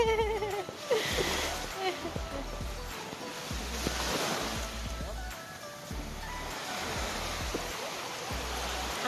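Waves surge and splash with rushing water at a Zambales beach, a steady wash of surf close by with a voice talking over it at times.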